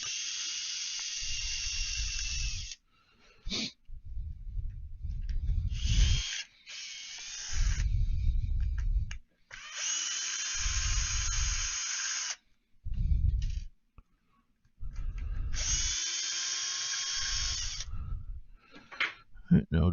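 Small screws being backed out with a 2.5 mm hex driver on an LMT with a TREAL transmission, in repeated bursts of close, bright ratcheting and clicking separated by short pauses.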